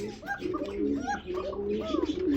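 Pigeons coo in repeated soft, throaty rolling calls, several overlapping phrases heard close by among caged breeding pairs.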